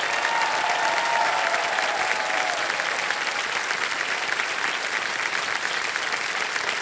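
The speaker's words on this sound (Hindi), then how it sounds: "जोरदार तालियां सुभाष कुमार जी के लिए।" Studio audience applause on the KBC game show set, a loud, continuous burst of clapping from a large crowd, steady for several seconds with a brief tonal sound early on.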